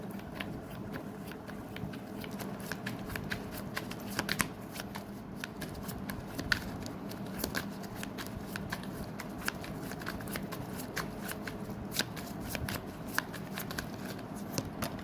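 Tarot cards shuffled continuously for a long stretch, a soft steady riffle and patter of card against card with small clicks, close and fairly quiet.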